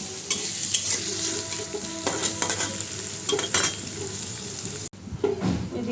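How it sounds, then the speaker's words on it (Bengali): Cumin seeds fry in a kadai with a soft, steady sizzle under bursts of stirring and scraping, then a brief clink near the end. "আর এই কড়াইতে আমি হচ্ছে জিরাটা ভেজে নেব"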